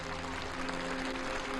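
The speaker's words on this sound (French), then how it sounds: "C'est à ce moment-là qu'on entend les premiers applaudissements." Applause greets the Shenzhou-11 spacecraft docking with the Tiangong-2 space laboratory: a continuous wash of clapping over a steady electrical hum, fairly even in level throughout.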